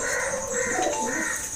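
A home-bred racing pigeon coos in soft, rolling, throaty phrases close by, with faint background bird and room noise throughout.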